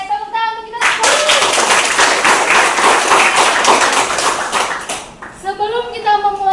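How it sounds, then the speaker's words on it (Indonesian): Children in a classroom clap together in a loud, dense burst of applause lasting several seconds, with a voice speaking just before and after. "Oke, tepuk tangan untuk kita semua."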